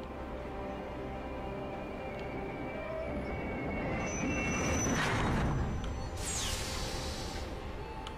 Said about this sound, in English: Get on the train.